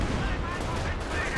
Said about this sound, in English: A lot of explosions here.